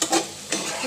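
Cumin, ginger and garlic paste fries in a pan with a soft sizzle, broken by two quick scraping stirs.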